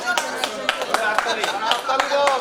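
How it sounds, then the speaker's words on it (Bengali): Audience clapping at a Rotary Club installation ceremony in Sonarpur, rhythmic claps at a steady pace with voices mixed in, fairly close. "জোরে হাততালি"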